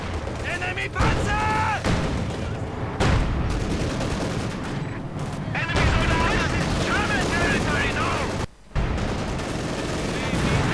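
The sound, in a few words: light machine gun fire in a Company of Heroes video game battle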